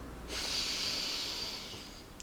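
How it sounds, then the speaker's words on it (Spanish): A single deep, slow breath drawn in through the nose during a mindfulness exercise, a long airy hiss that swells and fades over about two seconds, close and quiet, with no talking. "Tomar una respiración profunda."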